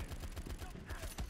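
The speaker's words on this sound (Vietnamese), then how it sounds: "Đang bắn thằng kia, có thằng khác nó nhảy vào nó bắn." Rapid bursts of gunfire in the World War 2 shooter game Battle Combat sound faint and distant, a quick rhythmic series of low thumping shots in a fusillade.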